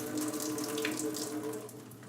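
Water pours from a Chemex glass coffee brewer through its paper filter into a sink, a steady faint splashing stream lasting a couple of seconds.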